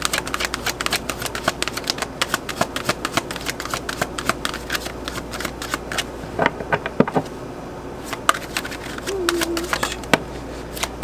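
A deck of tarot cards is shuffled steadily by hand, giving a continuous train of close, crisp card flicks and taps with a faint bird call in the background.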